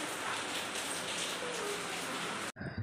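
Steady rain falls on a surface outdoors, a dense, continuous patter that carries on without a break and then cuts off abruptly near the end.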